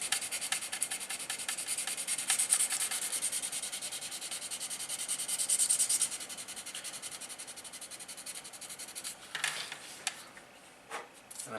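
Filled seams being sanded by hand, steady close rubbing and scratching strokes that keep an even back-and-forth rhythm, fairly quiet, with no voices.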